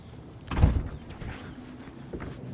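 A door swung shut, one dull thud with a short rumble of the frame, followed by faint ambient movement and a light click.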